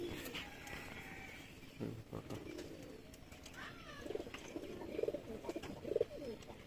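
Pigeons kept in a loft, with low soft cooing repeated several times at close range, faint, over a quiet background.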